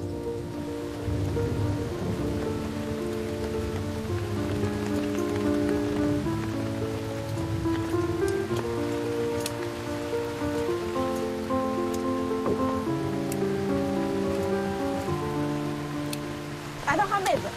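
Steady rain falling on surfaces outdoors in the Pyrenees, a continuous hiss under a voice and background music, with a few sharper drips and a brief louder rush near the end.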